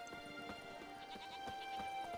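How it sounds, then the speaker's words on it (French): Goats bleat repeatedly on the island of Skellige in The Witcher 3, a cluster of short, wavering calls over a steady ambient game soundscape, faint and somewhat distant, with no one talking. "C'est riche en chèvres, hein, Skellige"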